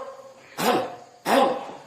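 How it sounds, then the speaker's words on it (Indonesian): Two forceful throat-clearing sounds pushed from the belly rather than the chest, each a short gruff burst about half a second long, spaced apart and close up, with no talk around them. "Dehem dengan perut."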